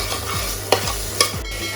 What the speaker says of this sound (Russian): Жарим на растительном масле, постоянно обильно помешивая.